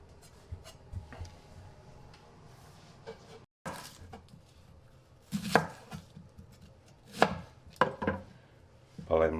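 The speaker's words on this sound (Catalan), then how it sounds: "Pelem la ceba i la tallarem ben petita." Knife chopping onion finely on a cutting board, sharp quick strokes arriving in short clusters with pauses between, close and fairly quiet, no talking.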